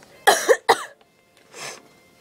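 A person coughs twice in quick succession, close and loud, followed after a pause by a softer breathy exhale.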